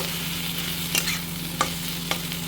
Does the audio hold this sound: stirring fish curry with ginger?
yes